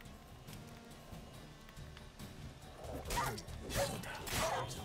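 Dogs bark in a quick, loud burst of yaps and growls in The Witcher 3 game, rising near the end over a low background of game ambience.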